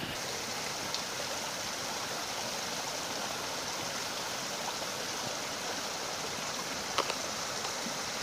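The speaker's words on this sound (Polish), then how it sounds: "W oddali słychać jakiś wodospad. Bardzo mocno hałasuje." Continuous rushing water roars evenly throughout, a broad steady wash of a distant waterfall in the woods, with no voices.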